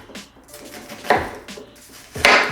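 Knife slicing an onion into half-inch slices on a cutting board, two or three crisp chopping cuts with short sharp knocks against the board, close and moderately loud, no talking.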